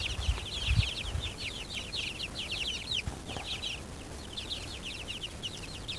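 Silkie and bantam chickens cluck and chirp in quick, continuous bursts, with several birds overlapping at a moderate distance, over low rustling and a few soft thumps in a quiet outdoor setting.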